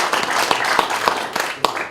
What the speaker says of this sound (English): So we'll give her a round of applause anyway